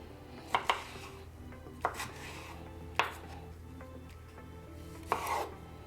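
A knife dices tomatoes on a cutting board for a shrimp arrabiata sauce, a handful of sharp, close chops spaced irregularly, with quiet scraping and rubbing between them.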